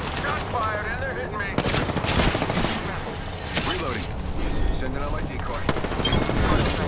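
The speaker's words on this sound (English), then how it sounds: "Shots fired and they're hitting me." Rapid bursts of automatic gunfire in the battle-royale game Apex Legends, loud and close, rattling almost continuously with a few heavier booming shots mixed in.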